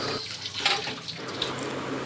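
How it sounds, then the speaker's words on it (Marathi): Cold water splashes steadily from a tap over drained boiled noodles for street-style Hakka noodles, a close, continuous rushing pour in a kitchen sink. "आता आपल्याला हे गाळून घ्यायचं आहे व त्यात थंड पाणी टाकायचं आहे"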